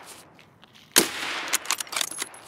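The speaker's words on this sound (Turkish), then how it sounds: "dördüncü atışımı yaptım" A single sharp gunshot in Escape from Tarkov on the Streets of Tarkov map, followed by a flurry of fainter clicks and clattering.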